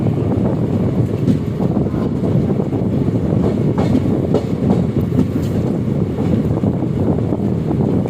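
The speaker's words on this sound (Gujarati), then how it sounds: "આપણી ટ્રેન અત્યારે સુરેન્દ્રનગર જંકશન આપણી ગાડી અહીંયા પહોંચી છે" A train rumbles steadily with a constant, heavy rolling noise and some wind buffeting, no voices.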